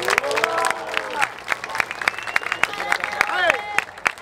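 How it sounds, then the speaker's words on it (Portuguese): A crowd applauds at the grand final of a Brazilian rap battle in Barueri, São Paulo. A steady patter of many hands clapping runs under someone speaking loudly over it. "Uma salva de palmas pro Ironinho aí, mano"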